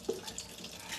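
Water running steadily from a tap during washing, a faint continuous splashing flow close by, with no talk.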